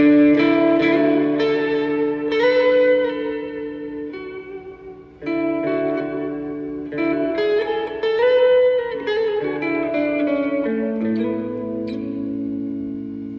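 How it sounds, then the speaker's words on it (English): An electric guitar through a Keeley Super AT Mod overdrive pedal, AT side on, with mild overdrive plays chords and melodic phrases, notes ringing out with a wash of reverb, loud and up front. "turn just the overdrive on the AT side"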